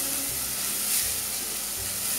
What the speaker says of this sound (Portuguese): Vou acrescentar aqui, ó, alho picado.